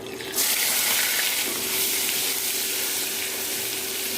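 Half a cup of onion paste hits a pan of lightly fried cumin seeds and bursts into a loud, close sizzle that settles into steady crackling frying.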